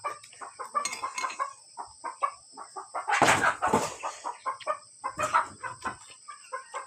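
Chickens cluck repeatedly in short bursts at close range, with a louder flurry of squawking and wing flapping midway, all without speech.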